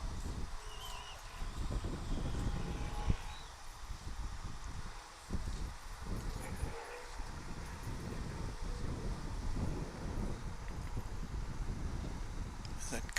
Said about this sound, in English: As that gusty wind picks up a bit